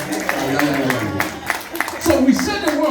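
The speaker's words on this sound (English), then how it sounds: "Clap your hands, all the men." A church congregation claps along in a rhythmic, steady beat while a preacher keeps talking over the clapping, and the room stays busy with voices throughout.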